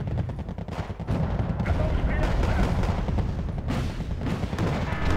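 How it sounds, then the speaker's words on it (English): Artillery fire pounds during a Wargame: AirLand Battle match, loud rapid repeated booms and crackling gunfire layered into a dense, continuous barrage that swells and pulses throughout. "there's the artillery"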